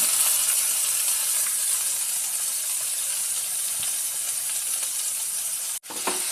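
Onion and tomato frying in a pan make a steady, bright hissing sizzle close by that continues evenly, briefly cutting out near the end, with no talking.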